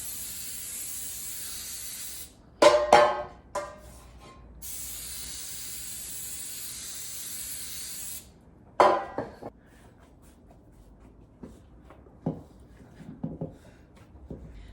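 Cooking spray hissing onto loaf pans while making homemade wheat sandwich bread, two main bursts of steady spray each lasting a couple of seconds, separated by pauses and followed by light clinks and taps of the pans.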